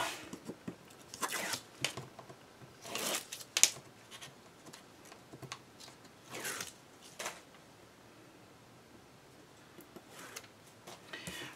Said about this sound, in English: I'm going to remove my tape.